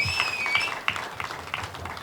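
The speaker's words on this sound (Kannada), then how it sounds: "ಚಪ್ಪಾಳೆ ಇನ್ನೊಂದು ಸ್ವಲ್ಪ ನಮ್ಮ ನಂದನ ಅವರಿಗೆ ಜೋಶ್ ತುಂಬೋಣ" An audience at a Kannada movie press meet claps, a light scattered patter of hands that is moderately distant and fairly soft, with a few sharper claps standing out.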